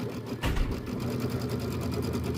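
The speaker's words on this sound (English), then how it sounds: "I'm just going to sew a couple stitches off." A quilting sewing machine stitching: a steady, close, whirring mechanical hum with a rapid regular needle clatter, starting with a slight bump and running evenly for a couple of seconds with no talking.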